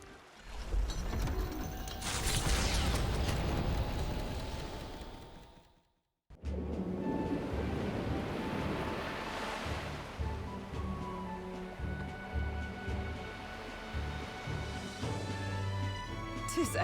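A ship ploughs through rolling sea waves in the fantasy video game Metaphor ReFantazio, a steady loud wash of water and hull noise that cuts out briefly and resumes under game music.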